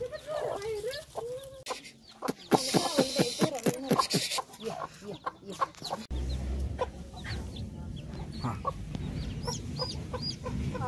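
A free-range village hen clucks among her ten newly hatched chicks, with repeated near clucks and a steady stream of high, thin peeping from the chicks outdoors.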